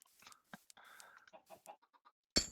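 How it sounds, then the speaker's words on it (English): A Minecraft chicken clucks in short, quiet bursts inside a video game, several separate clucks spread out, followed by one louder sharp hit at the end. "We'll just grab ourselves a chicken."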